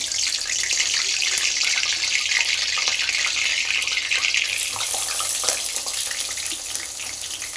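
Roasted dried fish (sukat) tipped into water in a home kitchen, heard as a steady rushing, splashing water sound lasting several seconds, close and fairly loud, with no talk.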